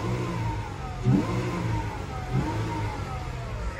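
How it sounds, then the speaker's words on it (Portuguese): A 2012 Jeep Wrangler V6 4x4 engine, heard close up, revs up twice to its 4000 RPM limiter and falls back to a steady drone in between. "Ó, ele trava em 4000 RPM"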